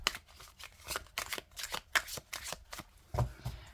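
Tarot cards are shuffled and laid out by hand in a steady run of crisp riffling slaps and soft sliding swishes, close up and fairly quiet, with no talking.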